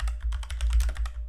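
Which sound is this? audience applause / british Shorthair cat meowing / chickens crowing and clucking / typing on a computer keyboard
typing on a computer keyboard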